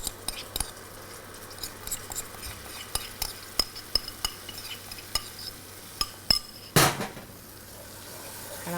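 Curry paste with turmeric being stirred in oil in a pot for Tobago crab and dumplings: soft scraping spoon strokes and light clinks at an uneven pace over a faint sizzle, close and quiet.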